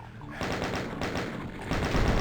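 Rapid automatic chaingun fire from enemy chaingunners in Doom, played on Hurt Me Plenty in the DSDA-Doom source port, rattles in a steady stream of fast repeated shots that keeps going to the end with no talk over it.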